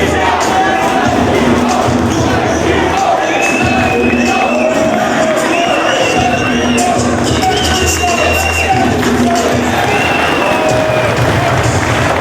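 A packed wrestling arena crowd at a Ring of Honor event cheers and roars steadily and loudly, with scattered shouts and clapping running throughout.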